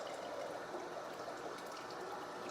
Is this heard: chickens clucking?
no